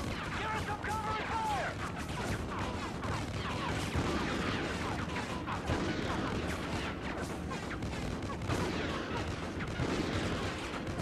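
Call of Duty: Ghosts battlefield gunfire: rapid, repeated shots and bursts with booming impacts, continuous and loud, while a player talks over it.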